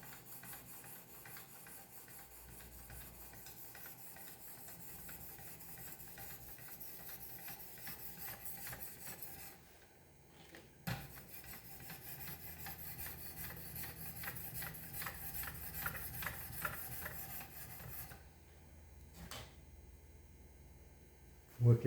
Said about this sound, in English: 1000 grit scrubbing